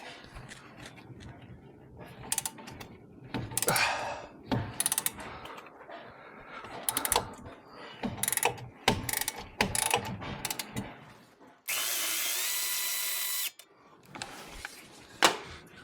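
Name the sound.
socket wrench ratcheting on Porsche 911 996 control arm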